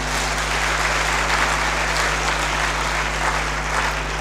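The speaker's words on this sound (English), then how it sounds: "Let's clap for that." Audience applause at a university alumni lecture, a steady wash of many hands clapping throughout over a constant electrical hum from the hall's sound system.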